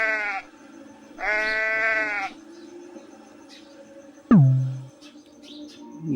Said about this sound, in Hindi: ये है sheep, सीप, भेड़।